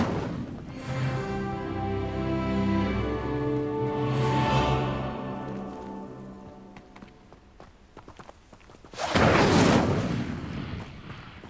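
Incendio fire spell cast in Hogwarts Legacy, a sudden loud whooshing burst of flame near the end, after a stretch of game music and footsteps.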